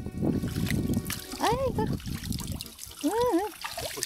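Water trickling and splashing while hair is washed outdoors during a rugged mountain hike, a steady wash of noise heard beneath lively voices and a child's speech.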